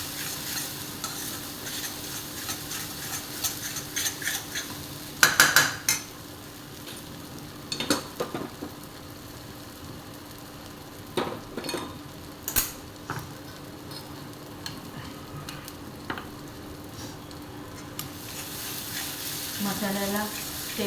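Spice masala fries in oil for a lentil amti, a constant sizzle broken by bursts of spoon scraping and clanks against the pot, close and fairly loud.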